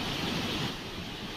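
Rain-swollen river in Chamoli during heavy monsoon downpours: a broad, constant roar of rushing water, steady and fairly faint, with no voices.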